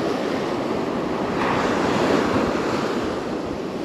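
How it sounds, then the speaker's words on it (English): Strong wind roars across the microphone over the rush of breaking surf, a continuous broadband blast with no voices. "It's getting super windy out here."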